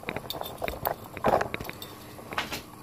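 A knife is handled in a casual home setting, with a scattered series of light metallic clinks and taps, some louder, spread irregularly over a quiet background.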